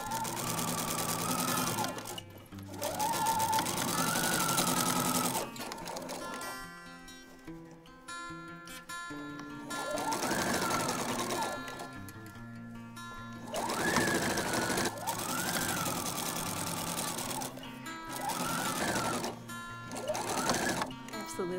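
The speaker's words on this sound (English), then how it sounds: "Love sewing this lace on." A sewing machine stitches lace onto a recreated 1900 historical gown, running in loud, steady bursts of several seconds each with short pauses between runs.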